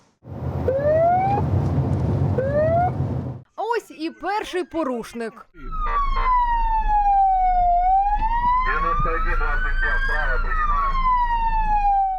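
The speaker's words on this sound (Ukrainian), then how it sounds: "Все аби перевірити, чи поступаються водії кареті із сиреною." Ambulance siren on city roads in Dnipro, wailing and sweeping up and down, loud and near, first under a man's speech and then alone, with a short burst of yelping tones between and traffic rumble below.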